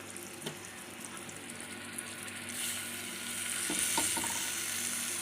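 Pieces of fish fry in a small amount of oil, giving a quiet, steady sizzle that grows slightly louder toward the end, with a few faint clinks of stirring.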